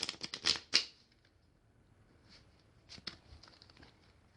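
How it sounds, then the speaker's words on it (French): Playing cards shuffled by hand during a magic trick, a quick cluster of sharp, close riffling snaps, a pause, then a second softer flurry of card clicks. "On peut ensuite remélanger les cartes comme ça"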